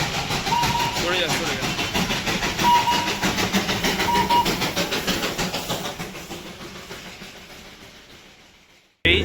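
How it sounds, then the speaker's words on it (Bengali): Darjeeling toy train rumbling past nearby with a steady rhythmic clatter of wheels on rails and a few short whistle toots, fading away toward the end. "এই জাস্ট ক্রস করলো আমাদের এখান থেকে টয় ট্রেন"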